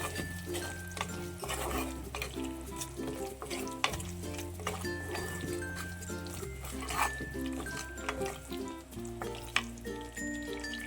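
A mackerel fish curry mixture is stirred in a claypot, with repeated spoon scrapes and clinks over a soft simmering sizzle, close by and with steady background music throughout.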